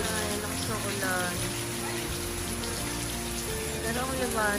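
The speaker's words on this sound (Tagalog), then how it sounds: "lakas ng ulan" Heavy rain pours steadily in a dense, hissing wash, with voices talking underneath.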